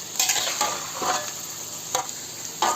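Lamb charsi karahi frying and being stirred in a metal karahi: a steady close sizzle broken by a few scraping stirs, with no voices.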